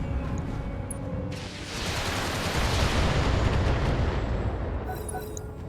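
Wheeled APC turrets firing continuously in a BattleTech game, a loud dense stream of rapid shots and blasts that swells in the middle and persists throughout.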